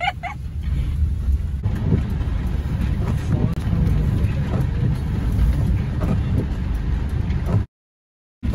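Rain falling on a moving BMW heard from inside the cabin at night, a steady broadband wash over low road rumble that cuts off abruptly near the end.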